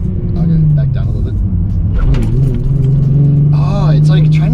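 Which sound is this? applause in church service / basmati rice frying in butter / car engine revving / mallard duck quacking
car engine revving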